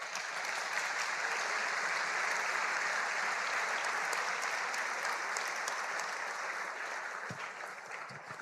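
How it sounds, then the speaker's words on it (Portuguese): Men at an Homens com Honra event in Jundiaí applaud themselves, a thick, continuous burst of crowd clapping that holds steady and then eases slightly near the end. "Você pode se aplaudir."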